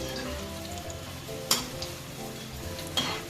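Cabbage pakodi frying in Nityam oil make a steady, close sizzle with a low hum underneath, and two brief clatters stand out along the way.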